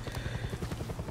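A helicopter in the Far Cry 6 video game, its rotor thudding in a fast, even pulse, close and fairly loud over a brief moment.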